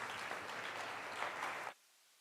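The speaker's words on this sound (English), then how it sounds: "A big applause, please." Audience applause at an 82nd birthday celebration for a guru and chancellor, a dense, steady burst of clapping that stops abruptly after under two seconds, leaving near silence.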